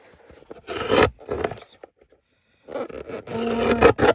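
Greeting card cardstock trimmed with a paper cutter at a craft desk: two rasping, scraping cutting strokes separated by a brief pause, close and fairly loud.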